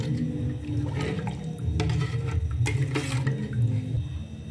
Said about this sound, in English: more water to it, and stir it very well so that there won't be lumps inside